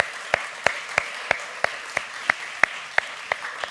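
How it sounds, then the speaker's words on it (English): A sparse round of applause for the winner of an online quiz: about a dozen separate, evenly spaced claps at a steady rhythm, fairly close and moderately loud, with no voices. "Round of applause for Andy M."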